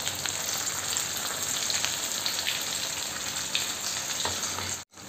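Fish fries on an iron tawa with a thick, continuous crackling sizzle, close and even, and small spatters pop through it until it cuts off abruptly just before the end. No one speaks.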